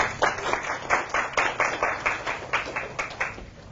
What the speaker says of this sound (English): please give a warm round of applause to Tara